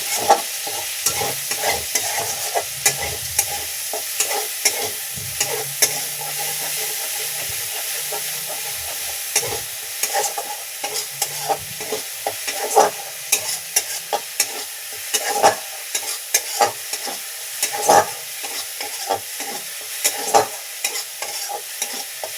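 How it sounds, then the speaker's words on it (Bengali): Onion paste fries in a pan for a prawn, potato and eggplant curry, with a constant hiss under a run of clattering stirring strokes, close up and with no talking. "পেঁয়াজ বাটা, একটু লাল লাল করে ভেজে নিতে হবে।"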